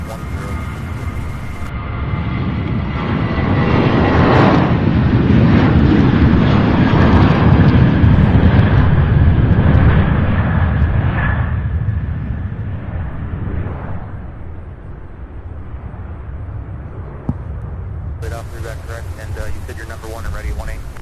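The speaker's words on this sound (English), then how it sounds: "So that American flight, the 737, heading to Dallas, Fort Worth." An American Airlines Boeing 737 departs for Dallas Fort Worth, a loud jet roar that swells, holds strong for several seconds, then slowly fades as it climbs away. A voice talks over it at an airport viewing spot.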